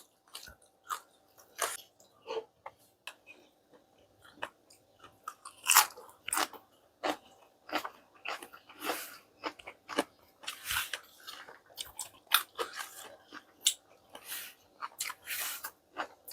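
Someone bites and chews grilled food, likely grilled sausage eaten with spicy papaya salad, producing repeated sharp, crisp crunches up close, in an irregular rhythm, with no talking.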